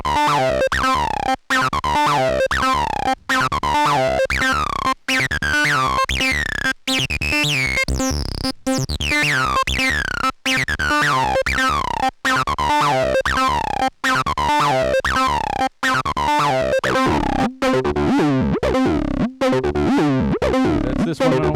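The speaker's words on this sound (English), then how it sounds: "In this case, I'm using a distortion." A x0xb0x bass synthesizer runs through a mixer's distortion effect, playing a loud, continuous sequence of buzzy, harmonically rich notes with short regular gaps between phrases and no voices.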